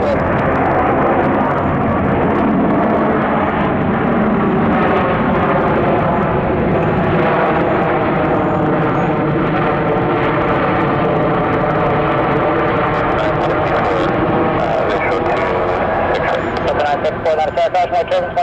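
Airliner landing on runway 26 right at Atlanta International Airport, a loud, steady engine roar lasting throughout and heard close, with air traffic radio chatter over it.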